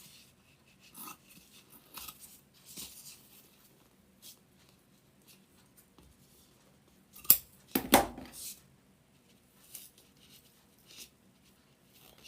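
Fabric being cut with scissors during a crafting session, a few quiet snips and sharper blade crunches in the middle amid soft handling noises.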